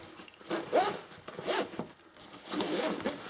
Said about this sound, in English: now let's just do a couple of these zips up.